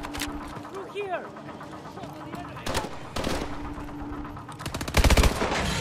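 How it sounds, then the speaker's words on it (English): Gunshots from warning fire in the video game Call of Duty: Advanced Warfare ring out in scattered bursts, with a loud rapid volley near the end, under shouted voices and game action. "Is he shooting the air? Cut him off! Warning shots."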